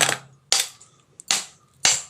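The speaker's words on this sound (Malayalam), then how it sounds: "ഇപ്പോൾ രണ്ട് കഷ്ണം വലിയ ഐസ് കട്ടയാണ് ഇട്ട് കൊടുത്തേക്കുന്നത്" Four sharp, clattering impacts spaced about half a second apart, like large chunks of ice dropping one by one into a glass of watermelon sherbet, loud and close.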